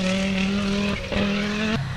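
A Group B rally car's engine roars steadily close by, its pitch shifting twice as it changes gear while passing.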